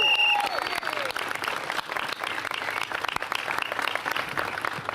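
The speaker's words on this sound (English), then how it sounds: "Let's give her a round of applause." Sustained audience applause at a mayoral press conference on a Green New Deal, dense steady clapping filling the room from start to finish with a faint voice under it at the start.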